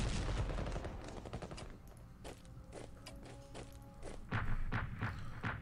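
An artillery attack in a war strategy game: a rapid burst of firing at the start, then scattered booms and thuds, with a renewed cluster of loud impacts near the end over a low background hum.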